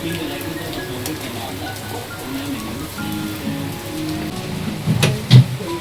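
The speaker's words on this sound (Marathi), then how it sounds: "पाऊस पाऊस खूप जोरात चालाय पाऊस." Heavy rain hisses continuously in the background, with a voice briefly audible and a sharp louder burst near the end.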